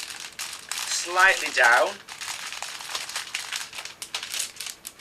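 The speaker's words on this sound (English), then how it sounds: "And now we're going to take the kiss cellophane" Kiss cellophane crinkles and rustles as it is handled to wrap three red roses, loud bursts through most of the stretch, with someone talking over the crackle.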